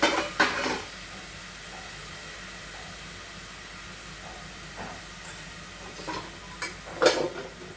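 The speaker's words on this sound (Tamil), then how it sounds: "கூடவே இந்த மீல் மேக்கரையும் போட்டு வதக்கிக்கிறேன்" Soya chunks sauté in a pan for beetroot biryani, a soft steady hiss broken by a few clinks of a spoon against the pan.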